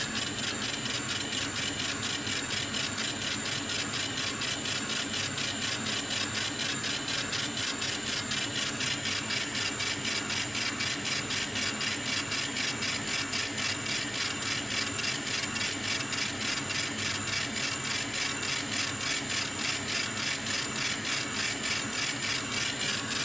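Laser engraver scanning across timber at 35% power, a steady, rapid back-and-forth buzzing rasp repeating evenly and close throughout with no talk.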